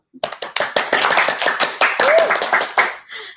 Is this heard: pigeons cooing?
no